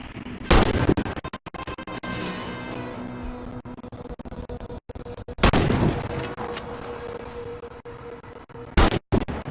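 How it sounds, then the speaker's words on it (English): Sniper rifle shots ring out at targets in the shooter game Warface, three loud sharp reports spaced a few seconds apart, each followed by a fading tail and background game sound. "Hit all the targets with your Sniper rifle."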